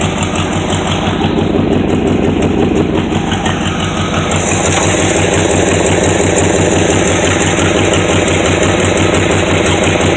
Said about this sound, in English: A big old honking engine right there.